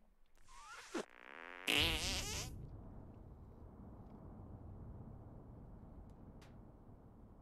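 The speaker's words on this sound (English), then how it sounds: "Make your fart detonate behind me." A fart sounds in two bursts: a short squeaky sputter, then a louder, longer blast with a wobbling pitch, trailing into a low, rumbling noise that lingers quietly.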